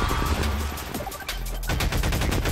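Rapid video-game gunfire from Half-Life 2 VR, a dense fusillade of automatic shots rattling steadily for a couple of seconds with no talking.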